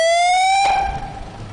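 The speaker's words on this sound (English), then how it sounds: "they hit the siren and bolted" Siren, a loud electronic wail with a rising tone that cuts off abruptly and leaves a fading noisy tail, very brief and alone.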